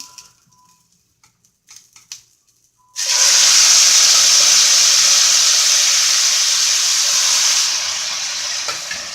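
Cooked pinto beans drop into a hot frying pan with a sudden loud sizzle that holds as a strong, steady hiss, after a few quiet clinks beforehand, and eases slightly toward the end.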